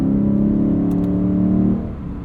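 A 2022 Lexus IS 500 drives with a loud, steady engine and exhaust drone holding a low tone before easing off, heard up close without talk.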